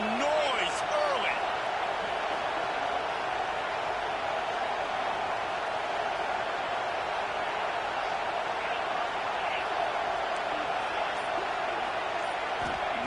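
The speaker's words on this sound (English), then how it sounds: "This crowd bringing the energy and noise early." Stadium crowd noise at a college football game in NCAA 26, a constant broad roar of many voices that holds steady throughout, with faint bits of game sound.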